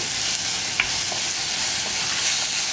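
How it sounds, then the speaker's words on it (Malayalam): Onions sautéing on high flame in a pan for mango milk curry, a steady loud sizzle with faint occasional scrapes of stirring throughout. "സവോള ഹൈ ഫ്ലെയിമിൽ വെച്ച് ഇളക്കി കൊടുത്തിട്ടുണ്ടെങ്കിൽ സവോള സോഫ്റ്റായി വന്നോളൂ"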